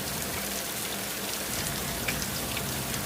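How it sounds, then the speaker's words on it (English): Heavy rain pours steadily in a dense, even hiss of countless drops striking a surface, with no pauses or voices. "and then a heavy rain fell."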